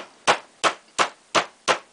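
Five sharp metallic hammer strikes, evenly spaced about a third of a second apart, drive a roll pin out of a CZ vz. 82 pistol during disassembly, each hit loud and close with a quick decay and no talking.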